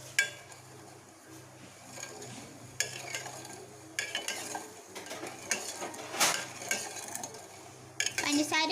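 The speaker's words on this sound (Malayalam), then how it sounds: "ഇതിനൊന്ന് ഇളക്കി കൊടുക്കാം." Sugar and water being stirred in a pan over a gas flame for rasgulla syrup: a spoon scrapes and clinks against the metal in irregular strokes, with some louder knocks, fairly close and with no talking.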